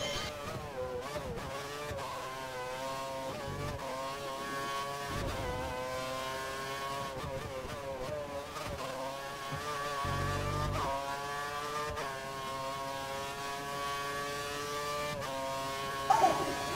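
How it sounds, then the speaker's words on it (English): A race car engine in a racing video game, on the Belgian GP circuit, screams near full revs with rapid gear-shift dips and repeated climbs in pitch, loud and continuous throughout. "He's running full revs, maximum power."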